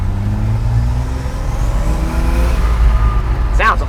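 A 1983 GMC truck's turbocharged six-cylinder engine rumbles steadily with a deep exhaust burble, idling and revving slightly, close by with a constant low drone.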